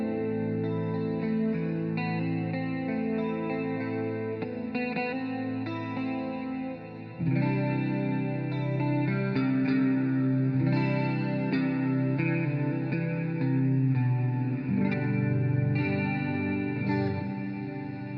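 Electric guitar played through a Fender Twin amp with ambient chorus, echo and reverb effects: sustained chords and ringing notes wash together continuously and loudly, with no talking.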